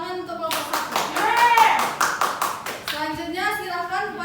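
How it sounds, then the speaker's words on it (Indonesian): Students in a classroom clap together for a group after a chemistry redox lesson presentation, rhythmic unison claps with a teacher's voice and children's chatter over them. "Beri tepuk tangan untuk kelompok 1."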